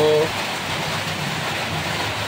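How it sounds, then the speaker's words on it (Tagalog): Heavy rain pounding on a roof drums as a steady, dense hiss after a brief opening tone, continuing evenly and fairly loud with faint voices underneath. "umulan ito sa amin, napakalakas ng ulan. At medyo maingay yung kasi maingay yung atip kasi malakas yung ulan."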